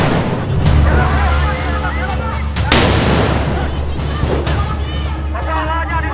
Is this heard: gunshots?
yes